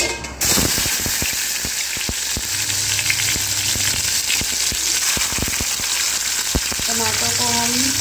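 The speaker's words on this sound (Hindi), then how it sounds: "टमाटर को हम गरम होने तक इसमें तलेंगे" Tomatoes frying in hot oil in a pan for a white chicken chukka gravy, a loud, continuous sizzle close up, broken by scattered scrapes and taps from stirring, with no talking.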